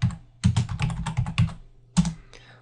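Rapid typing on a computer keyboard during coding work, a close, dry string of clicky keystrokes in quick bursts with a short pause before a final few taps.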